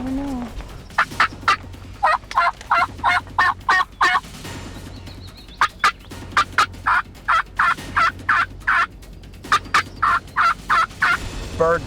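A wild turkey gobbling outdoors, loud and fairly close, in repeated rapid rattling bursts that come in several clustered runs with brief gaps between them.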